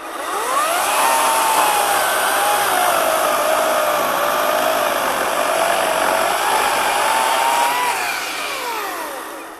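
Ryobi 40V HP brushless 20-inch battery chainsaw held at full throttle, a steady loud high-pitched electric whine with a slight pitch dip and recovery, running continuously for nearly ten seconds before easing off at the end.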